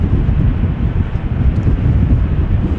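Strong wind blows across Amsterdam Schiphol Airport on a wet, windy day, a loud, steady, broadband roar buffeting the microphone without letup and with no voices.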